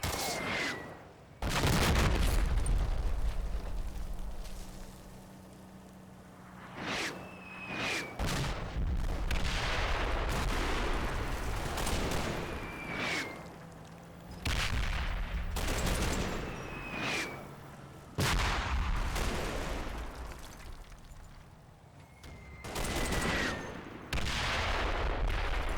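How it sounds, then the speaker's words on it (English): Mortar fire in the wargame Combat Mission during Operation Epsom, a series of heavy booming blasts and crackling gunfire repeating every few seconds over a rumbling battlefield backdrop, loud and sustained. "The mortar fire has already been redirected to the copse to the right of Lake."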